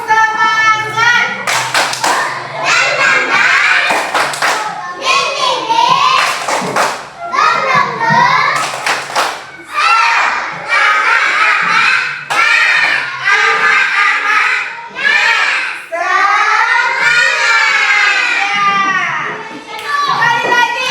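Children clap the rhythmic 'tepuk semangat' chant in an elementary school classroom, with repeated sharp clap bursts under loud chanting and children's voices throughout.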